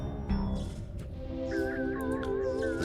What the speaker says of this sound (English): Squawk! Squawk, squawk!